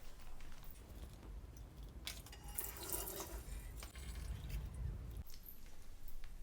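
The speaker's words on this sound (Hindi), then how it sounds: "जल्दी हाथ मुंह धो के आ।" A household tap runs while someone washes their hands and face, soft continuous water with a brief burst of splashing in the middle, faint and without talk.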